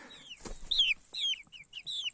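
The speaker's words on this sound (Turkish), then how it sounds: "hasta olan tavuğumuz" A sick chicken clucks close by in a short series of quick, high, squawky calls with small gaps between them, against a quiet background.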